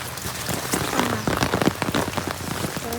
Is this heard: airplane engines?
no